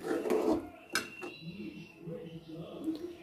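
A spatula stirs chopped coriander into a Khandeshi dubuk vade vegetable curry in a pan, with soft scraping and a sharp metallic clink, close by, as someone talks throughout.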